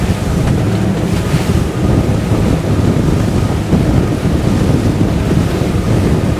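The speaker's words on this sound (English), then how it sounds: "There's a lot of wind coming over the decks here from that westerly." Strong westerly wind roars across the deck of a 2022 Fjord 38 Xpress powerboat running at about 25 knots into choppy ocean swells, a constant loud buffeting rush mixed with engine and water noise, with no voices.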